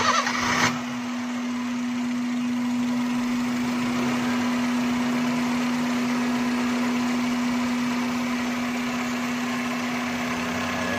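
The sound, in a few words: Honda City automatic car engine started and idling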